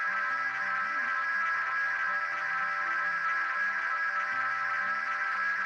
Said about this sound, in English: It will just continue to feed back into itself forever and eventually become